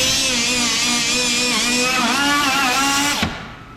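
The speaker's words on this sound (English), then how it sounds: "I'm hitting these with some 36 grit, and I'll do the same to the top of the table here." A power sander with coarse 36 grit abrasive scuffs a table top and workbench parts, a loud continuous whining drone with wavering pitch that cuts off near the end, close and alone.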